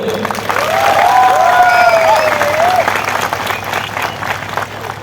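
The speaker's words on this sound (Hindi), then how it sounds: "ताली दो" A crowd at a political gathering claps for an IAS officer, with loud, sustained applause throughout and a voice briefly audible over it.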